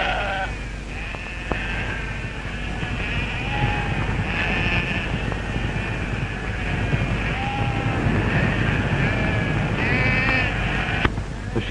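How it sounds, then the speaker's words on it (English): A flock of freshly shorn sheep bleats repeatedly in an outdoor paddock, many overlapping calls near and far over a constant noisy background. "the transformed and bewildered sheep is put with his denuded fellows"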